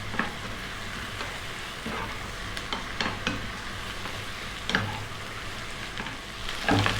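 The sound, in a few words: cabbage stir-frying on high heat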